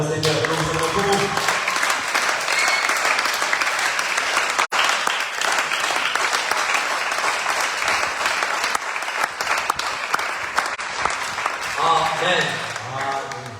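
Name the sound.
congregation applauding for the Lord in church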